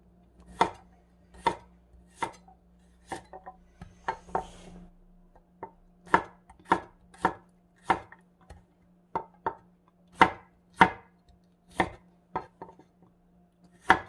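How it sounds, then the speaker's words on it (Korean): Garlic cloves sliced into thin pieces with a knife on a cutting board, a series of about twenty crisp, distinct knocks in an uneven rhythm, close and clear with no voices. "마늘은 편으로 썰어주세요."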